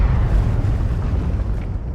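Artillery shells from the Drongo Arty mod in Arma 3 land on target, a heavy, deep, rumbling blast that rolls on and slowly fades, loud and low.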